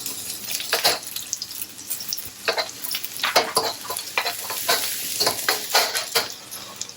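Sliced onion frying in hot oil for egg fried rice, a loud continuous sizzle broken by repeated clattering stirs and scrapes of a spatula against the pan.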